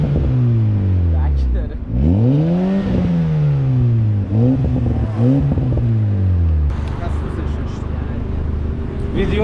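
A car fitted with an upgraded exhaust and a raised suspension revs loudly nearby, its engine climbing and falling through several throttle blips before settling into a rumbling idle, with people talking underneath.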